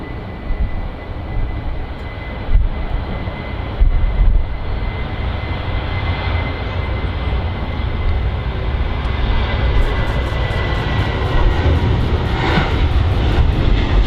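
A Ryanair Boeing 737 roars steadily at Manchester Airport, its jet engine noise loud and continuous, swelling slightly toward the end with no voices over it.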